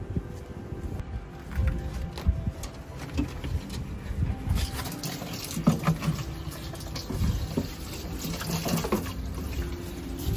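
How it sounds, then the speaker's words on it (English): Tap water runs steadily into a container being filled to water very dry potted plants, a continuous close splashing and trickling with occasional faint birdsong in the background. "While we're waiting for the water to fill up"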